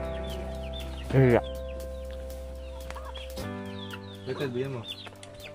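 Chickens cluck in a forest setting, two distinct bursts of clucking heard close by against a quiet background. People talk in between.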